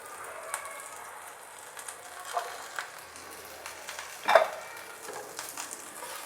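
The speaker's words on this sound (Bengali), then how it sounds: "তেলটি সামান্য গরম হওয়ার পর দিয়ে দিচ্ছি পেঁয়াজ কুচি" Chopped onion sizzling in slightly heated oil in a pan, a soft steady frying hiss with a few louder crackles and stirring scrapes, close by and with no talk.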